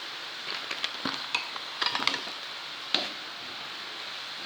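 Soft scraping and sizzling as burrito and fajita spices are stirred into a frying pan, with scattered small clicks and taps of a utensil over a steady low hiss, close and fairly quiet.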